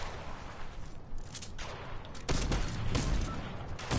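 Purple gun in a video game lets out a burst of rapid gunfire, a dense crackling volley that swells louder in its second half and runs steadily to the end with no talk.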